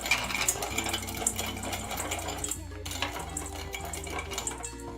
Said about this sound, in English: cracking the corn. It's not grinding it into powder.